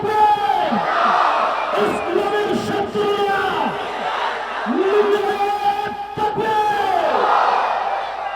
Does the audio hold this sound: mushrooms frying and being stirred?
no